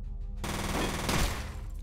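Rapid burst of automatic gunfire in the video game F.E.A.R., shooting at a lock: a short, loud, dense stream of shots that starts abruptly after a quiet moment.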